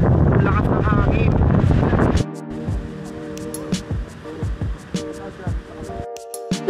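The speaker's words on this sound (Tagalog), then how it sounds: "Lakas ng hangin." Wind buffets the microphone with a loud roar on a beach in El Nido, then drops to gusty rumbling alongside scattered knocks and voices nearby.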